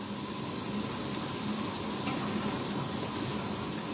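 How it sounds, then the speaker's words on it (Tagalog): Hot water pours into a container in a steady, even rush, close and continuous with a faint hissing wash and no pauses. "Okay, ngayon lalagyan natin siya ng tubig."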